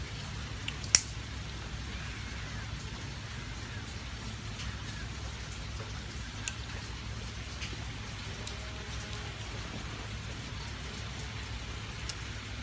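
Steady rain falls on a rainy afternoon, a soft continuous patter with occasional sharper drips, heard faintly and evenly throughout without talk.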